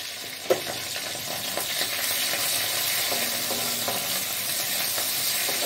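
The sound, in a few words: onion frying in oil with cumin and chili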